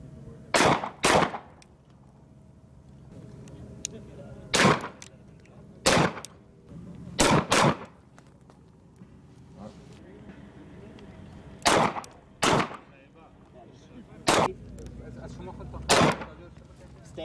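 M9 pistol shots ring out at an outdoor police shooting range, a dozen loud sharp cracks in spaced pairs and singles, with faint instructor commands in between.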